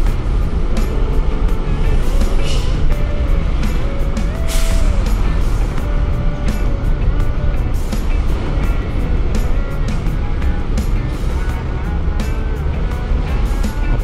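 Trailer trucks and other heavy traffic rumble past continuously at port-area roadside, a dense, loud roar with hissing air brakes and a brief higher whine, no one speaking.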